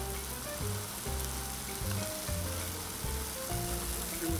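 Steak for sandwiches sears on a 22-inch Blackstone griddle with a loud, continuous crackling sizzle, close up and without any voices.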